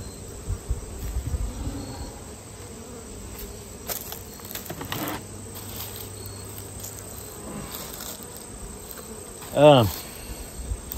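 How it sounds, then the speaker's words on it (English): Honeybees buzz at a weak hive, a soft, steady drone with crickets chirping behind it outdoors, a few scattered knocks, and one brief louder sweep of sound near the end. "Bunch of bees in there."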